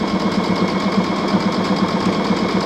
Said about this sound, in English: sew with me and sit with me in my sewing room